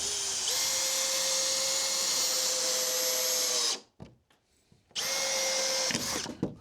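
A power drill drives screws on a sailboat refit with a high, steady whine for several seconds. It stops, there are brief clicks and handling noises, then it whirs again.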